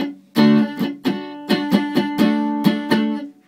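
A beginner strums messy distorted electric guitar power chords, about eight uneven, choppy hits with buzzing, muted strings and irregular timing, played alone and up close.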